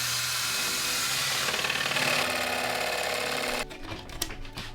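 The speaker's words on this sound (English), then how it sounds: "I'm going to drill this hole with this" A power drill bores a hole through a metal panel of a Mercedes Vario van, a loud sustained whine that cuts off abruptly, followed by a few clunks and rattles.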